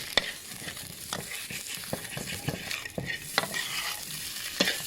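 Catfish being stir-fried with curry paste and holy basil: steady close sizzling in a pan under the scrape and clack of a spatula, which strikes at an uneven rhythm.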